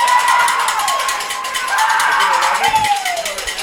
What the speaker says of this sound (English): And that gets the crowd fired up.